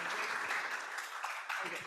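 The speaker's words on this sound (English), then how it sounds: "Give him another clap." A tech-talk audience gives the speaker a round of applause, a short, steady burst of many hands clapping throughout.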